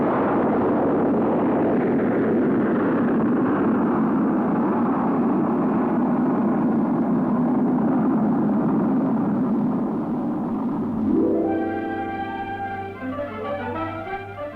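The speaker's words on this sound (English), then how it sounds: "Bumper, a modified V-2, became the first rocket to be fired from the Cape" A Bumper rocket, a modified V-2, launches from the Cape with a sustained loud, rumbling roar that holds steady before thinning out near the end, where a brief tonal music-like sound enters.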